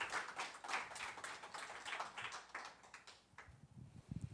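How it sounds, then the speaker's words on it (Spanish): Church congregation clapping for the Lord at the close of a Spanish-language service, a steady patter of hands for about three seconds that thins into a few scattered, closer claps near the end. "Den un aplauso al Señor, que lo merece."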